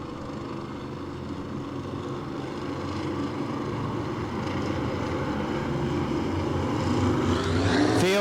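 Race cars circling a short track at a New Smyrna family night event, a layered engine drone that swells steadily as the pack draws closer, ending in a louder rising rev sweep nearby.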